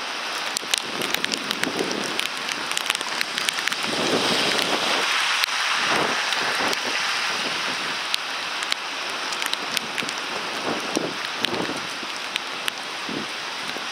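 Heavy rain pours steadily over Washington Heights in the Bronx, New York during a winter storm, a dense continuous hiss with scattered sharper drop impacts and gusts of wind buffeting the microphone, with no voices.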